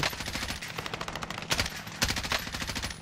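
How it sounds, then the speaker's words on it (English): Gunshots ring out from a rooftop during a riot, a rapid burst of repeated reports, fairly distant and echoing, with two louder volleys standing out. "There's someone shooting from the roof."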